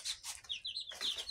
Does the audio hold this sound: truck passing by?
no